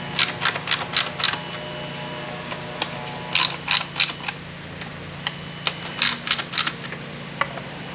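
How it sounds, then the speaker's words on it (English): Quick bursts of clicking from a stubby ratchet turning valve cover bolts on a 2015-2020 Acura TLX, in three separate runs of rapid pawl ticks. The ticks are close but fairly soft, with no talking. "I'm going to use the stubby ratchet"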